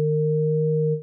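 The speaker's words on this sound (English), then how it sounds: "the second engine basically is a sine wave being modulated with a ring mod" Ring-modulated sine wave from the Arturia Pigments 4 software synth: a clean, steady electronic tone made of two pure pitches, held evenly for about a second and then cut off.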